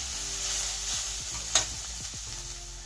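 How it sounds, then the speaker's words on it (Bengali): Vegetables seasoned with salt and black pepper fry in a pan, a steady close sizzle with a few soft utensil scrapes and one brief louder stir near the middle, no voices. "এখন একটু ভেজে নেব সবজিটা"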